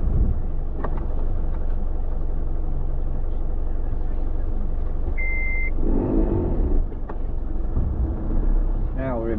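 Car or truck rumbling along in four-wheel drive, a continuous low engine drone with people talking over it and a brief beep.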